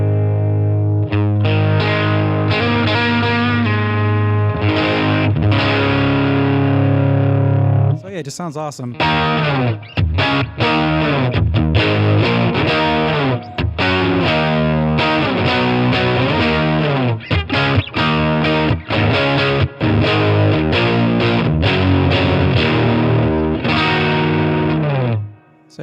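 Electric guitar through the boost channel of a Line 6 Catalyst amp, with boost and gain at about half: heavily saturated sustained chords, then fast chugging riffs and stabs, loud throughout, with someone talking briefly near the end.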